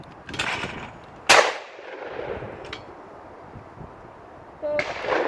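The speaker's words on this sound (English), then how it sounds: "Excellent shot that." Shotguns fire at clay targets on a windy shooting ground: a sharp, loud blast rings out, with softer reports before and after amid gusty outdoor noise.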